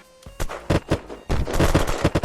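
Several sharp gunshots from the Unturned game crack in quick, uneven succession, each a loud close burst with brief gaps between.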